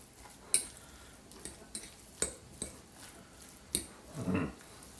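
A spoon folds crab mixture in a bowl, giving sparse soft clinks and taps against the bowl with a brief squelchy scrape near the end, quiet and close with no talk.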